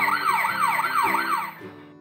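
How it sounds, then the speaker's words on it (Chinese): A toy police truck's electronic siren wails in quick rising-and-falling sweeps, loud and close, repeating about four times before cutting off. "警用卡车出发"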